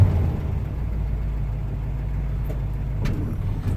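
A 1974 Chevy K10 pickup with 61k original miles idles steadily just after a cold start, a deep, even low rumble held close and continuous, with a couple of faint clicks near the end and no talking.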